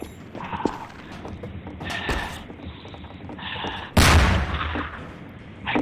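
Machine gun fire in the video game Trouble in Terrorist Town, with sharp gunshots and short rattling bursts scattered across the moment, one loud blast standing out among clicking mechanical noises.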